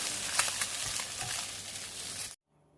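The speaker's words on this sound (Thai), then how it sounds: "พลิกกลับด้านไปมาผัดแค่พอสุกก็ตักขึ้นพักไว้ครับ" Two eggs frying in oil in a pan as they are flipped and stirred, a close steady sizzle with light scraping strokes that cuts off abruptly into near silence near the end.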